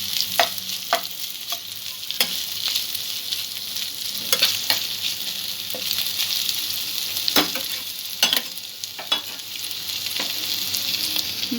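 Bread pulao ingredients with grated ginger sizzling in a frying pan as a spatula stirs them, giving scattered scraping clicks over a steady, fairly loud frying hiss.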